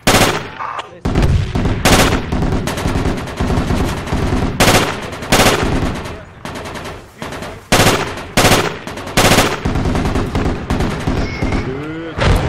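Heavy .50 caliber machine gun fires in the tactical shooter Project Reality during a compound raid, loud bursts of rapid automatic fire with short pauses between them, with other gunfire and a voice briefly heard in the mix.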